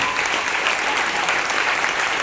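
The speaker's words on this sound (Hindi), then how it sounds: "मिस हेमलता को जोरदार तालियों से वेलकम किया जाए" Thick, steady applause from an audience welcomes the trainer, Miss Hemlata, to a women's mindset empowerment training session, loud and unbroken throughout.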